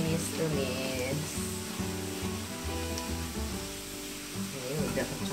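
Aromatics sautéing in a pan for petai fried rice, a continuous sizzle under background music without clear speech.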